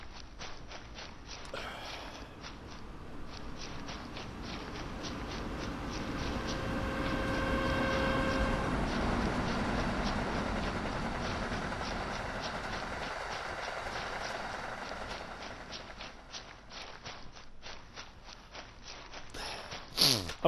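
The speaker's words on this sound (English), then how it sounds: "Oh, there's a train there, look." A passing train in the Train Sim World game on the NEC New York route, heard as a steady rumbling roll with rhythmic wheel clatter that swells toward the middle and fades away, with no talk.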